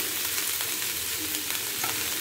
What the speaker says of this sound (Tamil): இப்போ நம்ம வந்து வெங்காயத்தை போட்டு வறுத்து எடுத்துடலாம்.